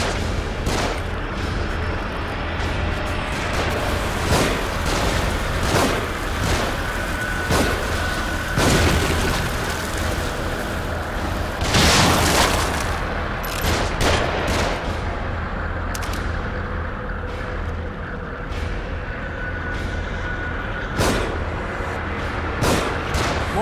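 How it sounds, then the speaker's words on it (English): Gunfire and explosions from the video game The Evil Within ring out, with repeated sharp shots and heavy booms over a dense, constant backdrop of game noise lasting the whole stretch. "Shooting from above."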